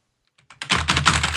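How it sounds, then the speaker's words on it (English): Rapid clatter of keys being typed on a computer keyboard, close and steady, starting with a few scattered taps and then building into continuous quick keystrokes. "I was typing. Stop typing!"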